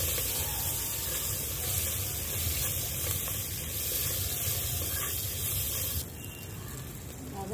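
Panch phoron, curry leaves and green chilli crackle and sizzle in hot oil in a continuous hiss, close and fairly steady, easing slightly toward the end, with faint speech in the background.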